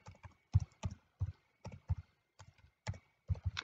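Keys clatter on a computer keyboard in a quiet room, a run of uneven, fairly soft taps with short pauses between bursts, ending with a firmer press of the enter key.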